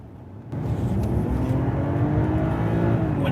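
BMW 745Le long-wheelbase hybrid sedan of just under 400 horsepower accelerates hard in sport mode from about 30, a sudden loud surge of engine roar with a rising whine that stays strong and close.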